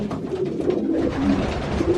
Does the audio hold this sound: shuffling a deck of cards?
no